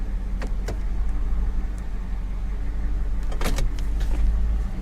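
Electric window motor whirring in an old police car, a steady idling hum underneath with a couple of short mechanical bursts early on and a longer whine near the middle of the stretch.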